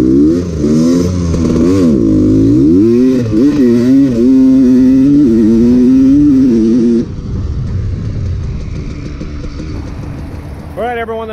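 A 1985 Honda CR250 two-stroke dirt bike, a barn find, rides laps at a motocross track, its engine revving loudly and rising and falling in pitch through gear changes, then dropping to a rougher, quieter drone.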